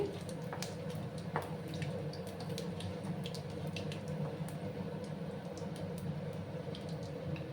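About half a spoon of panch phoron five-spice tempering frying in oil for a mixed vegetable dish: a steady, soft sizzle with scattered small crackles and pops, heard close and faint.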